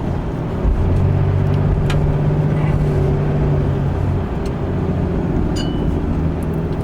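A 2015 Ram pickup with the Cummins 6.7 diesel and a remanufactured BD turbo drives through town traffic, its engine a steady, loud, low drone heard from inside the cab with no one talking.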